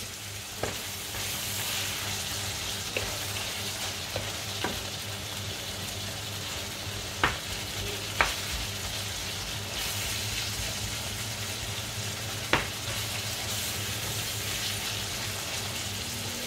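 Meat sizzles and fries in a pan, a dense continuous crackle up close with a few sharp clicks and pops scattered through.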